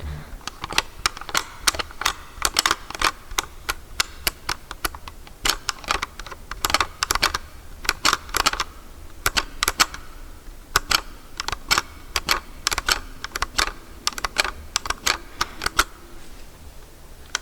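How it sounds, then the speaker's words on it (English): A cassette player's plastic battery compartment is snapped open and shut again and again, crisp close clicks in quick irregular clusters with brief pauses between. "popping open that battery compartment all the time just to hear that noise"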